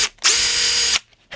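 A power drill whirs loudly for just under a second as it countersinks a hole in plywood, bracketed by short quiet gaps and the start of another burst.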